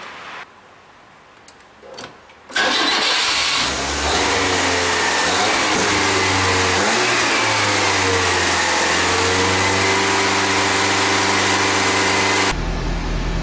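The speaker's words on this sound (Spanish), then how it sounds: "Esto recién es contacto y ahora para poder darle arranque voy a pisar el freno." A Fiat car's engine cranks and fires after a quiet moment, then settles into a steady, loud idle that runs on for about ten seconds before cutting off abruptly.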